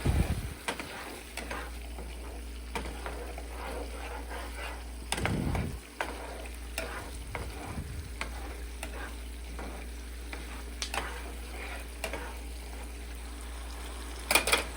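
Pork rinds (chicharron) in salsa sizzle steadily in a pan while a spoon stirs them, with scraping clunks scattered through and a few louder stirring bursts, close and with no speech.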